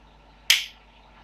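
A single sharp hand clap during a fitness workout, crisp and close with a quick decay, alone against a quiet background.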